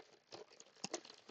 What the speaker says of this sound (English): Makes some horrible sounds with that crinkling tinfoil though